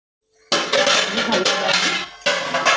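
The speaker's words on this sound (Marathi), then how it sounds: "त्याच्यावर झाकण ठेवू आणि गॅस थोडा बारीक करू।" A metal lid sets down on a cooking pan on a gas stove with a sudden clattering clank, followed by brief rattling and a second metallic knock near the end, close and fairly loud.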